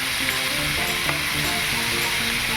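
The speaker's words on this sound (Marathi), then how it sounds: "आता मांदेली फ्राय करतो" Mandeli fish frying in a pan, a steady loud sizzle with crackling spatter running throughout, no voices.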